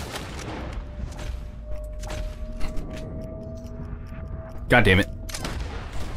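Rifle gunfire rings out in the video game Red Dead Redemption 2, with one sharp, loud burst near the end over faint game ambience, while someone talks briefly.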